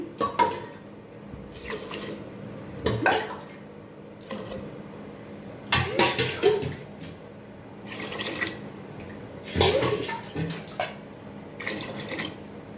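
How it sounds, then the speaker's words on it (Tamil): Water is poured into a pot of soaking moong dal in repeated splashy bursts every few seconds, close and moderately loud, with no voices over the liquid sloshing. "அதனால் தாராளமாக நீங்கள் தண்ணி ஊற்றுங்க"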